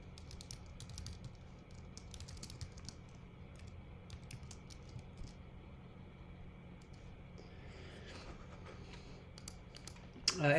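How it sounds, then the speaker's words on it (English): Computer keyboard typing, a soft run of quick clicks under a low steady background hum, with a louder burst of noise at the very end. "Sorry, I'm typing."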